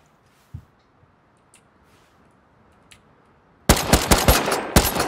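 Several seconds of near-silence with faint scattered ticks, then sudden loud, close automatic gunfire in quick rapid bursts during a video game raid.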